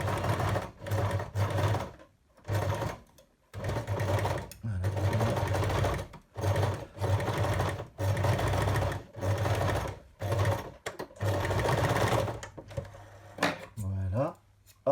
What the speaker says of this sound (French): Ensuite, je peux commencer à coudre.